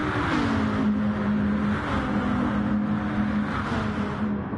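Race car engines droning loudly in a racing video game, a steady high-pitched whine with slowly shifting pitch as cars run close together during an overtake on the inside, with no talk.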